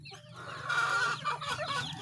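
A young rooster clucks close by in a short burst of throaty, wavering calls, fairly clear against a quiet farmyard background with no talk.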